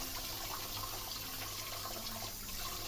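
Tap water runs steadily into a sink while tripe is rinsed by hand, a continuous close splashing hiss with no pauses and no talking.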